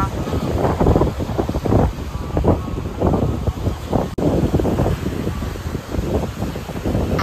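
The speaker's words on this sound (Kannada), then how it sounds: "Just look at those waves. Powerful but peaceful." Wind buffets the microphone in rough gusts while sea waves surge in the background at a beach in Byndoor, a continuous, noisy roar with uneven swells throughout.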